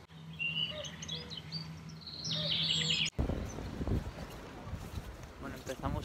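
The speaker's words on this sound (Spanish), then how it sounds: "Todos los baños de esta ciudad tienen ruiditos de pájaros cantando en los baños." Recorded birdsong plays in a public bathroom in Helsinki, with chirps and trills over a low hum for about three seconds before an abrupt cut to louder, noisier ambience.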